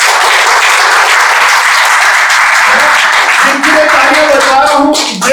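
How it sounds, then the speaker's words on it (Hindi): Church congregation applauding, a loud, continuous wave of clapping from many hands that swells and holds for several seconds. "ताली बजाओ बहुत ताली।"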